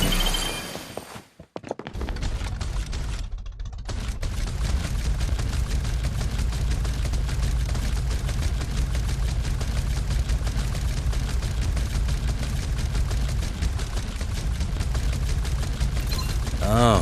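Dense, continuous rapid gunfire from the mobile shooter game Farlight 84, played on an Android vivo phone, loud and sustained after a brief dip near the start, with in-game voice lines mixed in.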